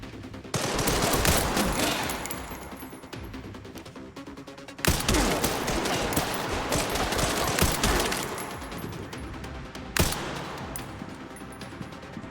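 Rifle gunfire against human enemies in the video game Resident Evil Requiem: dense, rapid bursts of shots with sharp loud cracks near the middle and end, rolling continuously over gritty in-game ambience.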